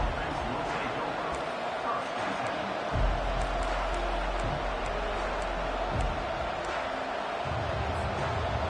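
Home crowd roars steadily through a stadium at an Ohio State versus Miami college football game, a dense, continuous wash of cheering with faint hints of commentary speech underneath.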